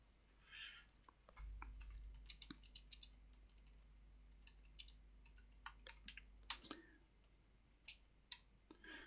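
Keys on a computer keyboard tapping out text in drafting software: quiet, scattered clicks arriving in short irregular bursts with brief pauses, close and alone.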